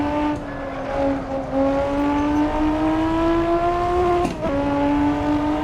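A race car's engine drones hard in a racing simulator on the Nürburgring Nordschleife, its pitch climbing steadily before a quick dip at a gear change, then pulling on loud and continuous.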